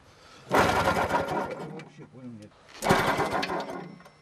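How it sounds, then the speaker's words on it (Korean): A frozen logging tractor engine in a snowy Russian forest is cranked and catches, roaring up loudly in two long bursts with a brief lull between, rough and mechanical at close range. "얼어붙은 엔진이 녹아 시동이 걸렸다."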